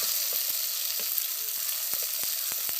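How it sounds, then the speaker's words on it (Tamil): Tomatoes sautéing in a clay pot for kara kuzhambu, a steady bright sizzle of frying throughout with soft periodic scrapes and taps of a stirring spoon, close and without talk. "நல்லா வதக்கி விட்ருங்க. தக்காளி நல்லா வதங்கணும்"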